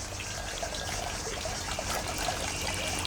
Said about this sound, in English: I just open that and it just runs into the garden, any rubbish water that might accumulate